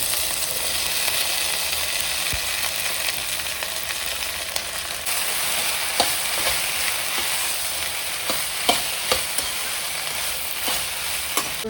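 Okra frying in hot oil in a pan, a constant close sizzle with occasional sharp clicks and scrapes from stirring, no talk.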